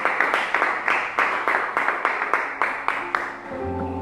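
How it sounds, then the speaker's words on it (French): A church congregation claps in a steady rhythm through a worship service, the crisp, evenly spaced claps filling the room before sustained keyboard tones come in near the end. "nous acclamons la parole de Dieu"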